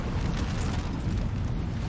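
Artillery in Napoleonic Total War 3 rumbles as a dense, continuous low roar of booming cannon fire, heavy and unbroken, with distant battle noise blended into the din.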